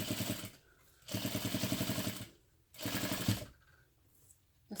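Sewing machine stitching a half-inch seam with a short stitch length and back stitch through thick folded fabric, two bursts of rapid mechanical needle chatter separated by pauses, close and clear.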